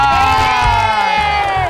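Studio audience on an Indonesian TV game show cheering and shouting together, a loud continuous crowd roar with whoops layered over a steady musical tone, no clear speech.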